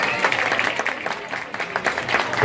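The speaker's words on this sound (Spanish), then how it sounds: "Quiero que ustedes la reciban con el gran aplauso que ella merece." A festival crowd applauds the arriving queen of the January 20 fiestas with dense, lively clapping, loud and close, sustained without pause for the whole stretch.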